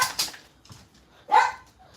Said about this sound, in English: we're trying to keep the puppies from barking